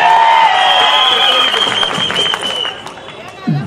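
Brief audience applause at a political rally in Dhule, a short burst of crowd clapping under a loud amplified voice that fades toward the end.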